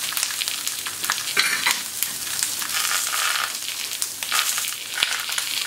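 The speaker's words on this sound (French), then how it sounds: "les aubergines sont en train de cuire" Aubergines fry in a hot pan for a Japanese-style grilled beef dish, giving a loud, continuous sizzle broken by the scrape and clatter of stirring, with no voices.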